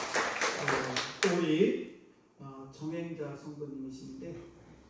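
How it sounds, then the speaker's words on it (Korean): A church congregation applauds in a brief, quiet patter of claps that fades after about a second, followed by a person speaking. "우리 박수 한번 해주시죠"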